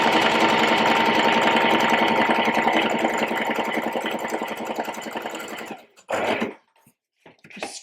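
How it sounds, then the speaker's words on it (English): A home sewing machine stitches ruffle gather lines at its longest stitch length, a loud steady rapid clatter for about six seconds, then slowing and stopping, followed by a short burst and a few faint handling sounds. "So I'm going to show you exactly how I'm going to sew those gather lines on my machine."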